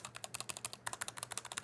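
Rapid typing on a Logitech G815 keyboard, a quick steady run of close, crisp keystrokes with a brief pause midway and no talk.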